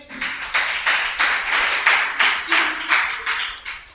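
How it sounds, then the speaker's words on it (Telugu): A church congregation claps in unison, about a dozen sharp, evenly spaced claps in a steady rhythm, fairly close, with a faint voice underneath. "నమ్ముతున్న వాళ్ళు చప్పట్లు కూడా దేవుని మహిమపరచండి"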